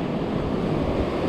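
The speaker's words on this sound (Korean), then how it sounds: "파도가 밀어주면" Sea waves breaking on the shore during sea fishing, a continuous loud rushing wash of surf close by, with no voices.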